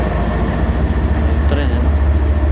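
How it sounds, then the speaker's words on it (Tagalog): A passing train rumbles loud and close in a heavy, continuous low roar with steady rattling, filling the whole stretch without pause. "Nangingay yung tren."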